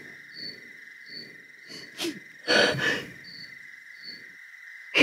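A sharp sneeze bursts out near the middle over a steady high ringing background with faint rhythmic chirps, like crickets, and soft breathy sounds around it.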